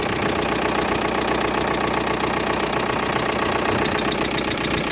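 A Volkswagen Passat B5 1.9 TDI diesel engine idles nearby with a loud, steady, knocking clatter that never changes pace.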